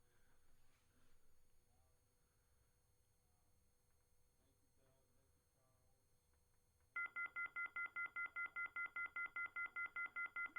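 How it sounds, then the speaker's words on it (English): A loud electronic beep tone starts partway through and repeats in a rapid, steady pulsing pattern, harsh and high-pitched, after a stretch of faint room noise with quiet voices in the background. "We still have a loud beep."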